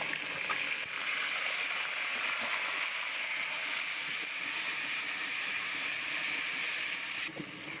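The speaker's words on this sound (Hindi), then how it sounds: "अल्हम्दुलिल्लाह हम इसमें शामिल कर देंगे प्याज का पेस्ट।" Onion paste sizzles and fries steadily in a hot pan, a continuous broadband hiss with faint crackles that holds at an even level throughout, with no talking.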